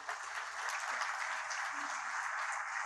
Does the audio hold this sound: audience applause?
yes